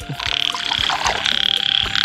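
Frogs croak after rain during a night frog hunt, a loud close chorus of rapid rhythmic pulsing croaks that runs steadily throughout.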